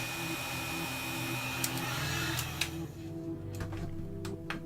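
A heat gun blows steadily while warming a plastic Kingdom Death miniature part, a constant quiet whooshing hum with a few small clicks and taps near the end.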